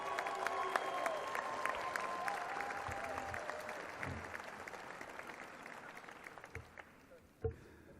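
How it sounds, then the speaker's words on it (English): Audience applause for Gerard McCullum II at the Inglewood State of the City Address, a steady roomful of clapping that holds across the clip and thins out near the end. "Please give a nice round of applause to Gerard McCullum II."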